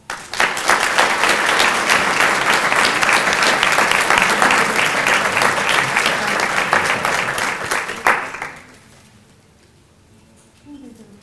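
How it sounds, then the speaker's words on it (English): Sustained audience applause at a collegiate scholars society ceremony, loud and dense for about eight seconds before fading quickly to a quiet room, with a faint sound near the end. "Please give a warm round of applause for Dr."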